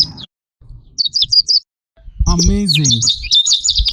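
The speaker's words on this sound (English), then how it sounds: "I want to create a sound effect of a morning with birds chirping" Birds chirp and tweet in short, bright bursts in an AI-generated morning soundscape made in Filmora, loud and close, with a person speaking briefly over the later calls.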